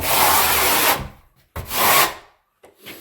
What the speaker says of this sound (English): make sure that you rake your trowel over so you're not leaving big extra amounts